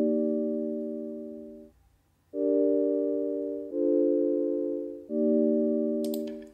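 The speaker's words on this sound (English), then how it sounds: "and it's just using a sine wave." A plain sine-wave synthesizer tone plays a sequence of four steady sustained notes, clean and unprocessed with no tremolo or delay, each fading slightly before the next begins.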